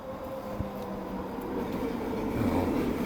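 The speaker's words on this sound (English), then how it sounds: "I've arrived at the train station, as you may or may not hear" A train rumbles past a station in a steady low drone that swells toward the end, with a faint squeal and scattered clanks, moderately distant and with no talk.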